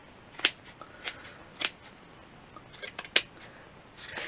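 Scissors trim the long strands of a wool pompom with a few quiet, crisp snips spaced irregularly, close by, with no voices.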